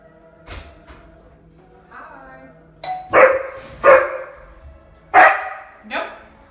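A Weimaraner barks at the door after a doorbell chimes, letting out several loud, sharp barks spaced a second or so apart, close by, with a person's voice mixed in.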